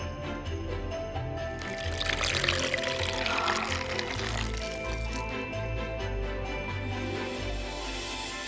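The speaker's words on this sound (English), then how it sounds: "We have even more water for all our snow." Water is poured onto instant snow powder in a toy game setup, a soft, continuous splashing trickle with faint tinkling, fairly quiet and close, without any voices.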